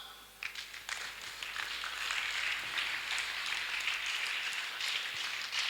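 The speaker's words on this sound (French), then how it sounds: "On acclame." A church congregation claps and applauds, starting quietly and swelling into a sustained, fairly distant round of clapping that holds steady to the end.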